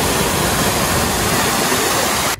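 Water pours down steadily from a cattle drinking-water system at a cow shelter, a dense loud rushing splash heard alone until it cuts off abruptly at the end.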